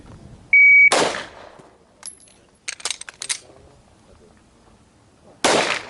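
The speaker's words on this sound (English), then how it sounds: "As soon as that beep sounds, fire." A shot timer gives a sharp electronic beep, followed by loud, close handgun shots on an outdoor pistol range during a standards drill, a quick irregular string of cracks with another single loud shot near the end.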